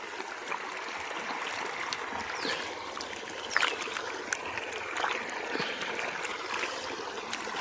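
Water from a pump motor flowing into a farm field, a steady rushing trickle and splashing heard close by that continues without a break.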